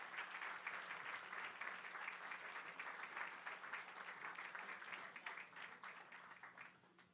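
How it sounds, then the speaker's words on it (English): Audience applause after a chess simultaneous exhibition played against Magnus Carlsen, a quiet, fairly distant but continuous patter of many hands clapping that fades slightly toward the end. "give Magnus and everyone who played against Magnus a big round of applause"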